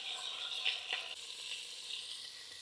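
A beef roast sears in olive oil with butter for a country Irish stew, giving a steady bright sizzle throughout with a couple of louder spits, close up and with no talking.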